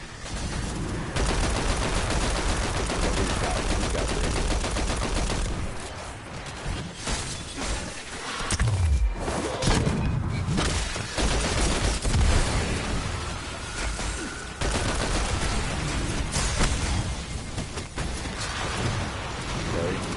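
Weapon fire in a PS4 shooter game, dense rapid bursts and explosive hits running almost continuously and loudly, with a few brief lulls.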